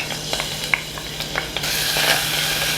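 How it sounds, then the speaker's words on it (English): A tablespoon of garlic cooks in sesame seed oil over medium-high heat for gochujang sauce, giving faint crackling with scattered small clicks before a broader, steady sizzle swells up partway through. No voices. "We're going to cook the garlic in the sesame seed oil."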